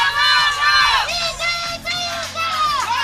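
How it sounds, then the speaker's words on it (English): Swedish and Italian archery teams cheer loudly together at a field archery team final, a close, sustained burst of overlapping yells and whoops from the crowd. "Sweden and Italy are cheering at the same time"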